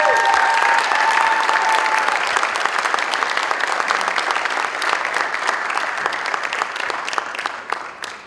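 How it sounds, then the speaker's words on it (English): A crowd applauds a Hall of Fame inductee at a school district sports induction ceremony: dense, steady clapping that continues for several seconds and then gradually thins out. "a big round of applause to Hall of Fame inductee"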